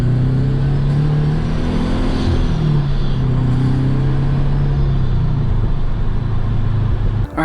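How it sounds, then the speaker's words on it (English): Subaru BRZ with a supercharger accelerating on a night drive, heard from inside as a loud, steady engine drone with rising rumble and a faint high whine throughout, ending abruptly. "let's see if you can hear the supercharger sounds."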